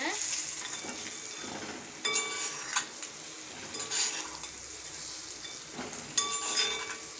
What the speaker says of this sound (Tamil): முட்டை உடையாமல் பார்த்து கிளறி விடுங்க